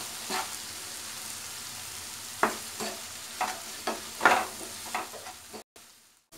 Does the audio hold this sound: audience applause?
no